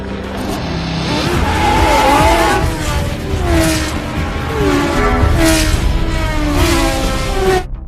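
Race cars tearing around a track in the Iron Man 2 car race, engines roaring loud and continuous with shifting pitch and tire squeal as they pass close by, no talk.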